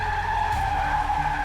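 A 1940s radio-drama effect of a car skidding into a delivery truck: a sustained, loud tire squeal that holds steady for a moment with engine rumble beneath.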